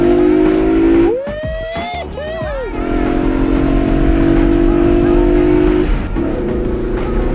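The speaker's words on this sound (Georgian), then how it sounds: "8 ცილინდრიანი მამაკაცური ძრავა, რომელიც 8000 ბრუნს ტრიალებს წუთში და განუმეორებელი ხმა აქვს" A BMW E92 M3 with an eight-cylinder V8 engine that revs to 8000 rpm. It holds a steady, close idle, then gives two sharp throttle blips that rise and fall quickly before settling back to idle.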